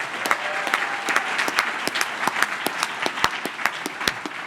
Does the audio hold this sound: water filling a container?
no